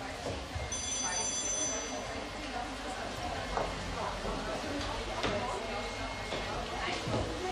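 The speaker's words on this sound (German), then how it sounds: "Monika, Telefon" A telephone bell rings in a German TV drama scene set in a hair salon, a short high-pitched burst sounding early on over steady background chatter and people talking.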